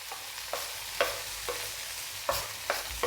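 Spiced vegetable bhaji with turmeric being stirred in a pan, a spoon scraping in several distinct strokes roughly every half second over a low, steady sizzle.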